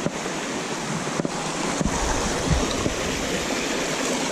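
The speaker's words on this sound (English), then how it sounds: "And there's a little river." A small forest river rushes steadily beneath a narrow footbridge, a broad constant wash with some wind buffeting the microphone and no talking.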